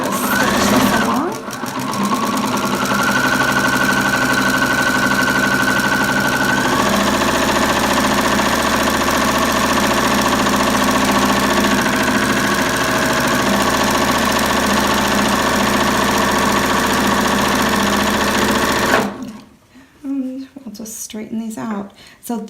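A sewing machine runs in a long, steady whirring stitch as quilt fabric pieces are sewn together, close and continuous, then stops near the end. A voice talks briefly over it.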